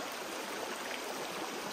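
Water draining off a tipped gold sluice mat into a tub, a steady, close hiss of running water held level for a couple of seconds.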